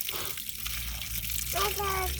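Water runs from a tap outdoors, a steady close gushing flow that continues under people talking.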